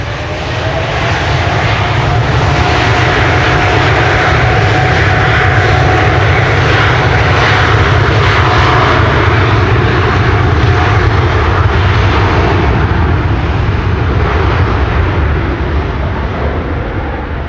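A Boeing 787-10 airliner arrives on the Oostbaan, runway 22, at Amsterdam Schiphol Airport during Storm Amy. Its loud, steady jet roar carries through the whole stretch with a faint whining tone, and gusting wind noise runs underneath.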